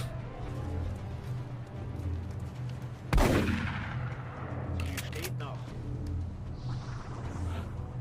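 A single sharp rifle shot rings out in XCOM: Long War, cracking loudly near the middle with a short decaying tail, over low game ambience and a voice speaking.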